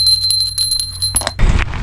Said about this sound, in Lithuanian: Skambutis.